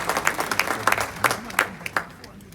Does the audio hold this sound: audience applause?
yes